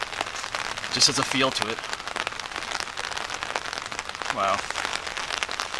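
Steady rain patters and crackles across an old cemetery on a dreary day, a dense hiss throughout with someone speaking briefly over it.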